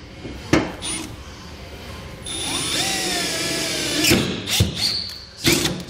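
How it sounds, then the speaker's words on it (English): Power drill working through a pickup truck bed for an underbed gooseneck hitch install, with sharp metallic knocks and clatter interrupting a sustained whining run in the middle. "you'll have to drill through that cross member underneath as well"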